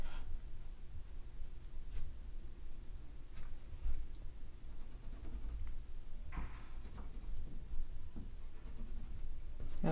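Tick marks are drawn along the edges of a sheet of paper during a watercolor lesson: faint, short scratchy strokes spaced irregularly over a quiet background, with no talking.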